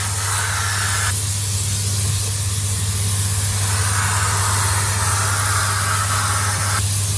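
Spray gun blowing paint onto a Ford Kuga alloy wheel during a smart repair, a steady loud hiss that runs the whole time with slight surges in level and a low hum underneath.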